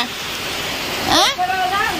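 Heavy rain falls with a steady, loud hiss, and a person speaks briefly over it partway through.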